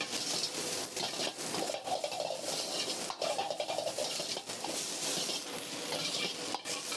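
Egg is sautéed in oil in a pan for chicken fried rice, giving a quiet, continuous scraping and stirring with a soft sizzle underneath and no talking.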